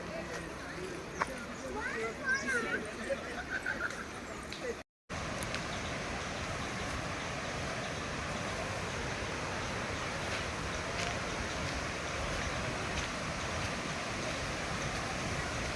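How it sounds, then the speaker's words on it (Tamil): Faint, steady roar of the Kovai Kutralam waterfall carries as broad continuous noise from a short way off, near the Siruvani river, after a brief quieter stretch that ends in a short dropout. "அந்த அருவியோடைய லேசான இரைச்சல் சத்தத்தை உங்களால் கேட்க முடியுதுன்னு நானும் நம்புகிறேன்"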